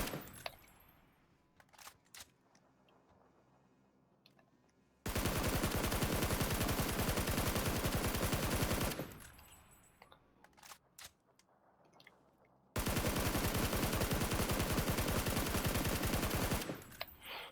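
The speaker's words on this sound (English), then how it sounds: "you want to scope in and shoot as quickly as possible." Full-auto bursts from a scoped rifle in PUBG, two long, loud, rapid-fire strings of shots of about four seconds each, separated by quieter handling clicks and rattles.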